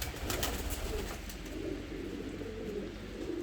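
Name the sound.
pigeons cooing in a coop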